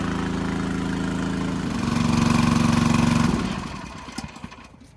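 A John Deere 8RX 410 tractor engine idles with a steady low drone, swells slightly, then winds down and cuts off, leaving a few faint clunks.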